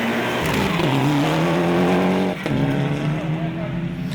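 A new rally car driven by a Christchurch husband and wife in the Ashley Forest Rally Sprint roars past with a loud, sustained engine note, a brief gear-change dip midway, then the engine climbing again.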